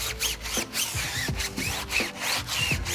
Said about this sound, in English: That tells me that it is time to scrub, so I'm gonna take my Detail Factory. This is just the regular tire brush.